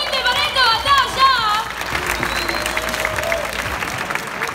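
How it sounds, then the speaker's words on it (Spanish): Audience applause at a rap battle competition, dense clapping under a shouting voice at first, then continuing as a steady crowd wash before fading slightly. "¡Aplauso, gente, para esta batalla!"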